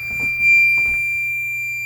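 A Gent Xenex fire alarm panel under test gives a steady, high electronic tone that holds for the full stretch. Faint background shuffling sits beneath it and no one speaks.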